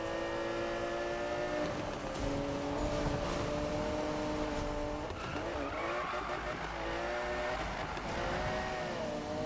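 Engine of a car in a sprint race in Need for Speed (2015), a continuous high revving drone that shifts pitch through gear changes, with tire squeal and skidding around the middle; a voice talks over it.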